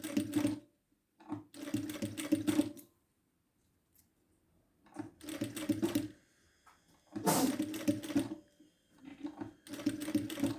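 A sewing machine stitches cotton bias binding in four separate bursts, each a few seconds of rapid, close needle chatter, broken by short silences between passes.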